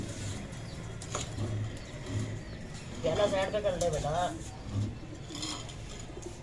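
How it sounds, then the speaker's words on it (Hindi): Pigeons coo and flutter nearby in a coop in Karachi amid low background noise, with someone speaking briefly over them. "कबूतर बंद करते हैं"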